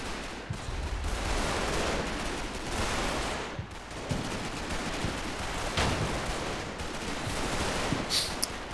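Dense battlefield din from the Combat Mission Battle for Normandy game: continuous overlapping gunfire with rolling mortar blasts, loud and steady throughout, with no talking.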